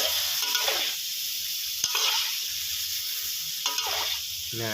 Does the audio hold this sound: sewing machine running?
no